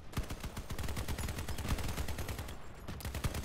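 Rapid autocannon bursts and heavy machine gun fire from a Stryker AFV build armed with a Reaper autocannon in the Crossout vehicle combat game, dense, loud and continuous over a busy battle background.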